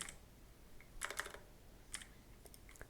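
Keys tapped on a computer keyboard in a short burst of a few quick clicks, then a couple of isolated taps, faint and close, with no voices.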